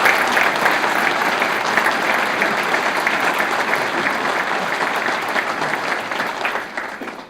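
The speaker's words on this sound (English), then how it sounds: "Let's give one more round of applause to Dr. Jesse Jones" An audience at a Murray State engineering and physics dedication applauds for Dr. Jesse Jones, dense sustained clapping that fades out toward the end.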